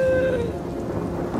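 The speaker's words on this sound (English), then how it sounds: "Rain?" Cartoon rain pours steadily alongside a low thunder rumble, opening with a brief musical tone before settling into a dense wash of rainfall.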